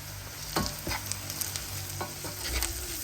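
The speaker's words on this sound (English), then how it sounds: "I've been constantly sort of mixing so it doesn't stick to the bottom of the pan" Browned onions with salt frying in a pan for pilau rice, stirred with a spoon that scrapes the pan bottom in a few distinct strokes over a steady close sizzle.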